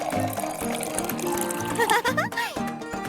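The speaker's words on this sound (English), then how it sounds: "Looks like it's time to water our vase." Water pours and fills a vase in an animated Sprunki scene, a gushing liquid sound lasting a few seconds beneath bright musical tones.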